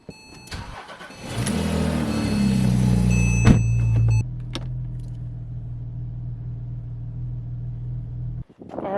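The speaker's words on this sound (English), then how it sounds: "Let's pull the Porsche out of the garage." A Porsche car starting up in a garage, with a clunk before the engine catches, a rising crank and rev, then a steady low idle rumble and a sharp knock at the end.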